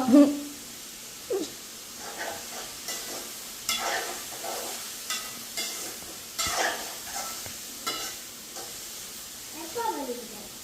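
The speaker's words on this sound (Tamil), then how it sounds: "அங்கால வந்து பீட்ரூட் வதங்கி கொண்டு இருக்கு இங்கால வந்து ரால் வதங்கி கொண்டு இருக்கும்" Beetroot and prawns sauté in pans in a home kitchen, with soft sizzling and repeated scrapes of stirring at a steady pace, fairly quiet and close. No one speaks.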